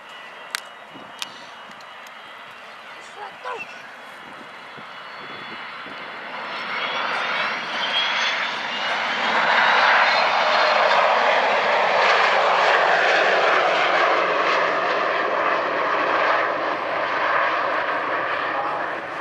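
A Boeing 727 oil spill response jet with three Pratt & Whitney JT8D turbofan engines at the Duxford Air Show, swelling from a distant whine into a loud, roaring pass that sustains its broad jet noise, with a few faint clicks early on.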